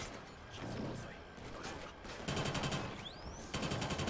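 Gunfire in a Killzone: Shadow Fall multiplayer match on The Hangar map, with dense bursts of shots and mechanical clatter running throughout, loud and close, with a whooshing sweep near the end.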